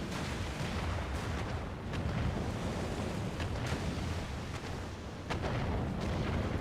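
Explosions in the game Final Fantasy XIV: Stormblood, heard as a continuous loud rumbling roar with repeated heavy blasts and crackling bursts layered over it, sustained throughout with no talking.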